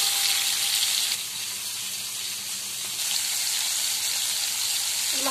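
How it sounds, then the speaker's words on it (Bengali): Prawns fry lightly in oil with a steady hissing sizzle at moderate level, dipping briefly and then returning, with no voices. "এগুলো হালকা করে ভাজবো"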